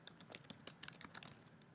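Quick, crisp keystrokes on a computer keyboard as a git branch command is typed, a steady close-up clatter of separate key clicks with no voices.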